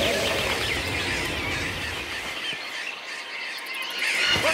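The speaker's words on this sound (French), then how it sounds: "Ces oiseaux sont tellement nombreux qu'ils nous cachent le soleil!" A huge flock of cartoon birds chatters and chirps in a dense, continuous outdoor din, fairly loud and steady, with some insect-like trilling mixed in and no clear talking.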